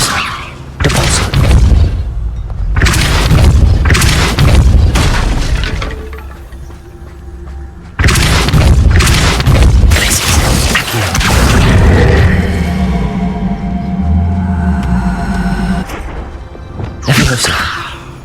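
A Depulso spell in the Hogwarts Legacy video game strikes with loud booming impacts and shattering crashes in two heavy clusters separated by a quieter lull, with whooshing swishes and a lingering tonal ring afterward.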